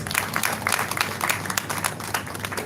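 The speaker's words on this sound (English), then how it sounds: "Round of applause for him, please." An audience at a faculty lecture of ophthalmologists claps steadily for about three seconds, with dense, moderately loud applause and no clear voices.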